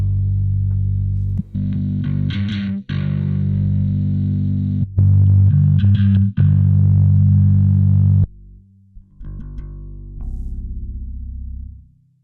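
Bass guitar played through a Darkglass Microtubes Infinity distortion pedal, heavy and meaty, with sustained gritty notes and chords separated by short breaks and a quieter final phrase.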